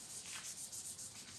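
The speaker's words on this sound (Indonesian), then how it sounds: "Selanjutnya ini tahap proses pengamplasan." Hand-sanding body filler with sandpaper on a 1984 Daihatsu Hijet 1000 (S70) during repainting, steady rhythmic scratchy strokes back and forth, close but fairly quiet.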